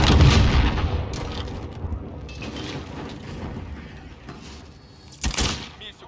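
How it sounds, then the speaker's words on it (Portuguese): A grenade explodes in Call of Duty Modern Warfare multiplayer on PC: a loud, low boom at the start rolls into a debris-filled rumble, followed by scattered sharp gunfire cracks and a second burst near the end. "Jogando granada."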